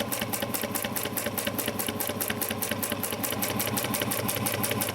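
A sewing machine runs steadily while top stitching a mini box tote bag, a close, even rapid needle clatter with no pauses.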